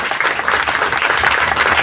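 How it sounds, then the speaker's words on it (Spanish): A church congregation breaks into loud, dense applause during a sermon, many hands clapping together in a continuous roar throughout. "Esto merece un aplauso."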